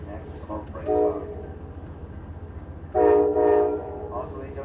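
Amtrak Train 22 rolls along the rails with a steady low rumble, while two loud horn blasts ring out, a shorter one early and a longer, stronger one later.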